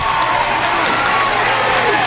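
A loud crowd cheers steadily throughout at a boys' high school basketball game between Kenwood and Northeast, a dense sustained roar with scattered shouts and claps.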